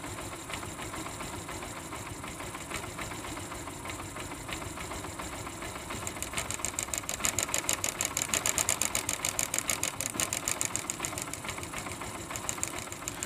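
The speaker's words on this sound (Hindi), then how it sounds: "तो ये नॉकिंग की साउंड जो है वो काफ़ी कम हो जाती है" A motorcycle engine idles steadily with a rapid, rhythmic knocking tick that grows more pronounced partway through, loud and close.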